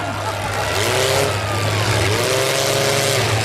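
Several pickup trucks in a two-man pro stock truck demolition derby revving hard under a steady loud engine roar, with a rising and falling whine, close and continuous.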